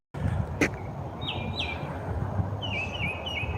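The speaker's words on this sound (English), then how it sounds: "enjoying the sound of the birds" Several birds chirp and whistle outdoors in short repeated phrases, clear but not close, over a steady bed of background hum on a walk away from the road.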